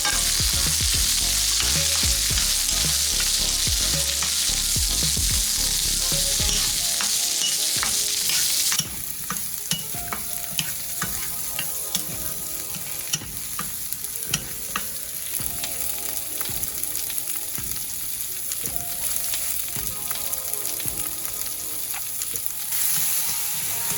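Cucumber and chopped green onion hit a hot pan with a loud sizzle that settles into a steady frying crackle with occasional clinks of stirring, alone without talk.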